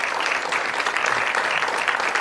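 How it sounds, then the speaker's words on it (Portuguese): A TV studio audience applauding steadily, a dense wash of hand claps at an even level from start to finish. "Um aplauso para a Teresa."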